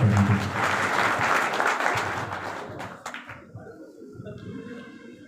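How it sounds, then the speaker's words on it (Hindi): Audience applause for the MP at a political gathering in a marriage garden in Gudh, steady crowd clapping that fades out after a few seconds, leaving quieter background sounds. "जोरदार तालियां एक बार माननीय सांसद जी की।"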